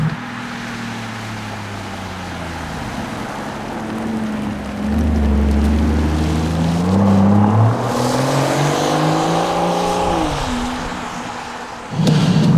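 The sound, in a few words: V12 engine of Rolls-Royce Cullinan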